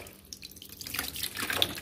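Water splashes and trickles as it is poured over fish in a kitchen, starting quietly and building into a steady, close pour with faint drips near the end.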